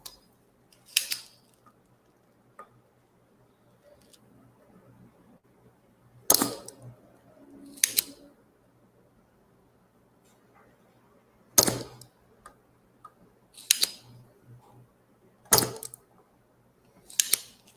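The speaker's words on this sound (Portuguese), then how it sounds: "Aqui a gente vai esquentando, sugando. Esquentando, sugando." Desoldering pump working on an inverter air conditioner circuit board during repair, giving several sharp, brief snapping clicks at irregular intervals over quiet background hum, fairly close.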